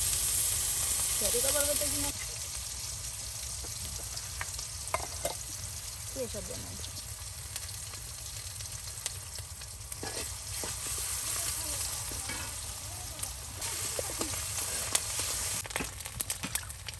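Fish pieces frying and being stirred with spices in a pan while cooking a sour mango fish curry, giving a steady close sizzle with occasional scraping stir sounds throughout.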